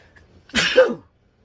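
A single loud, close sneeze bursts out sharply, then quiet follows.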